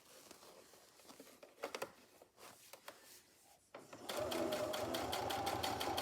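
Sewing machine stitching a slightly wider seam on a project bag, first with quiet handling and rustling of fabric, then a steady fast motor whir running continuously near the end.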